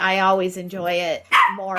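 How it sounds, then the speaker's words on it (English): Pet dogs bark close by, loud yips breaking over a person talking indoors. "Sorry about my dogs."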